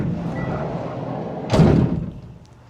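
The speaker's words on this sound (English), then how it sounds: "And when I open the side door," Sliding side door of a Farizon SV electric van rolls open, a short muffled thud and rumble against a steady low background hum, with no voices.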